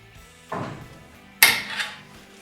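A Hammer C3 31 planer-thickener table is flipped over, giving a knock near the half-second mark and then a louder metallic clatter with a brief rattle that dies away, close by, with no talking.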